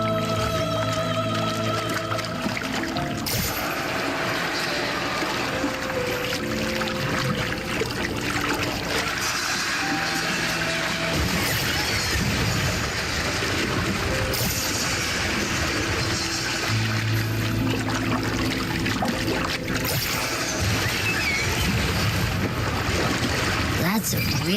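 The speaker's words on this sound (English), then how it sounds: "That's a really big waterfall." Steady rushing of a big river waterfall in the Wuthering Waves game world, a constant broadband wash of water heard throughout beneath game music tones, with no voice present.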